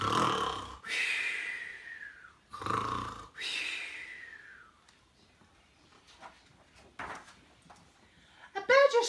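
A voice imitates a bear snoring, giving two long, loud, rasping snore-like breaths in the first few seconds. These are followed by quieter rustling, faint breathy sounds and a brief higher squeak near the end.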